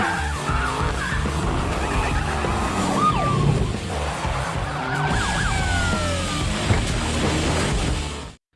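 Police cars chasing a getaway car through streets in an action film, with continuous loud engine roar, tire skids and squeals, and faint wailing sirens running throughout before an abrupt cut.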